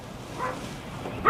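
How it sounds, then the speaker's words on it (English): A dog barks at a door, a few short muffled yips and woofs, fairly faint and mixed with room noise, with a sharper bark at the end. "your dog is barking at the door"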